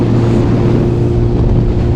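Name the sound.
restricted 34 hp A2 motorcycle riding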